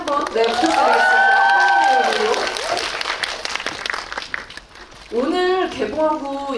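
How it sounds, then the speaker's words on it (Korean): A cinema crowd at a film Q&A event for Gunche gives loud applause mixed with excited high-pitched cheering. The noise dips briefly as a voice speaks over it, then rises again into another burst of shrieks. "저희 먼저 박수 한번 더 크게 한번 부탁드리겠습니다."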